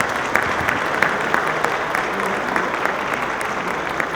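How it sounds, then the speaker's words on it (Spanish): A conference audience at a panel on transparency and anti-corruption claps steadily, moderately loud, with scattered sharper hand claps over a continuous wash and no clear talk on top. "les pido un muy fuerte aplauso para todos"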